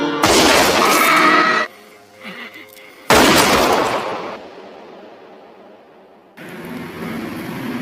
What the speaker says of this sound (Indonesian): Dia pun menembak Quilty di sini dan akhirnya Quilty pun tewas.